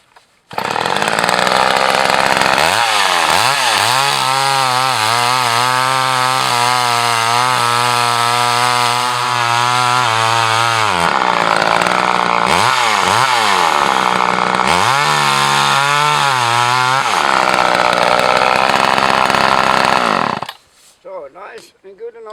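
A small yellow McCulloch chainsaw fitted with a 14-inch bar and 3/8 chain runs loud and close, its engine revving up and down in repeated surges for about twenty seconds before cutting off.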